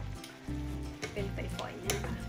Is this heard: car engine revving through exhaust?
no